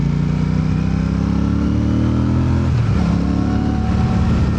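A Royal Enfield motorcycle engine hums steadily up close on a highway ride, its throttle rolled on smoothly so the thump rises and dips in pitch partway through.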